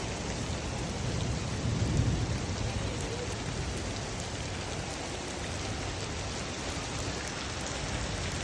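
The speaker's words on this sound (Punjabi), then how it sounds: "ਫੁੱਲ ਜ਼ੋਰਾਂ ਸ਼ੋਰਾਂ ਨਾਲ ਹੋ ਰਹੀ ਆ ਬਠਿੰਡੇ 'ਚ ਬਾਰਿਸ਼" Heavy rain pours steadily in Bathinda, Punjab, in a dense, unbroken hiss, with a low thunder rumble rolling briefly beneath it; no voices.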